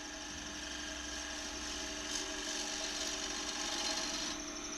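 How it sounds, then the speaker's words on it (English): A wood lathe turning a bowl while a gouge makes a pull cut with the bevel rubbing, giving a steady, continuous scraping hiss over the motor's low hum, close up and unbroken. "I'm sort of using a pull cut here, round, round, bevel rub, round"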